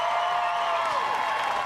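An audience applauding at a rally for RFK Jr., a dense wash of steady clapping and crowd noise, loud and continuous for a brief moment.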